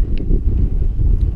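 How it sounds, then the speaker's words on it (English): Strong wind buffets the microphone in an open field, a steady low rumbling roar across the whole moment with no break. "Wind's blowing real hard."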